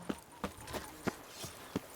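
Hooves of Roach, a horse in the video game The Witcher 3, clip-clop in a steady rhythm of about five distinct strikes at moderate volume, with no talking.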